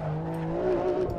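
A BMW M car oversteers in the Assetto Corsa racing game, with a sustained tire squeal over a humming engine drone, close and moderately loud, lasting about a second.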